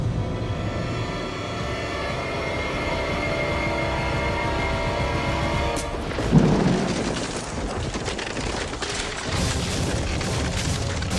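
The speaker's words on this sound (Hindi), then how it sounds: "यहाँ धमाका हुआ, बाहर पटाखे की आवाज।" A loud boom bursts out in the middle of a dramatic TV episode's sound mix, rumbling like an explosion or firecracker blast over a sustained musical score, with no talking.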